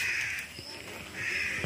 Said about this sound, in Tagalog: Ang tunog ng ibon.